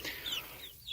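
Young chicks in a nearly finished backyard coop in North Carolina make high, bright chirps and soft clucks, a few close calls over a short moment with no talking.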